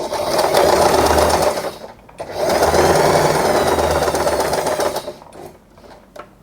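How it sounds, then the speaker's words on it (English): A sewing machine whirs in two loud bursts of rapid stitching with a short pause between, then slows and stops. "Let's take this to the sewing machine. Let's do a back stitch."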